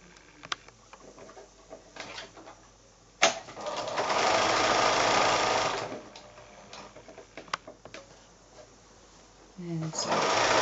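A sewing machine stitches quilt patches cut from fat quarters in one steady, loud run of about three seconds. Fabric handling and clicks come before and after it, and a person talks in the clip.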